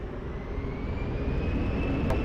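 An airplane taking off at Lisbon Airport, heard as a steady, broad jet roar that holds at a loud, even level from start to finish without pause.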